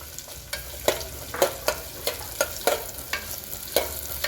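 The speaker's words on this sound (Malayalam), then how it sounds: "ഒന്ന് വഴന്ന് വരുന്ന വരെ ഇളക്കി കൊടുക്കുക" Five small shallots sautéing in a pan with coconut for Kannur-style kalathappam, a steady oily frying hiss broken by regular, close spatula scrapes and taps roughly every half second.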